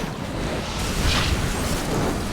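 A bomb blast in a World of Warcraft heroic raid fight, a broad rumbling burst that swells around the middle and trails off into steady roaring noise.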